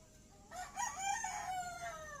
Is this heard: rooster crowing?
yes